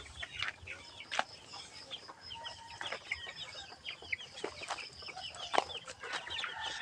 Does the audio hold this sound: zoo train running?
no